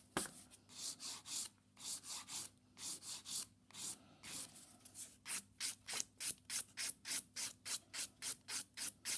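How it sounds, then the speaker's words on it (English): A nail file rasps across acrylic nails in quick, regular strokes, close and crisp, about two strokes a second speeding into a steady rhythm with no talking. "So I always end up filing over my own nails as well"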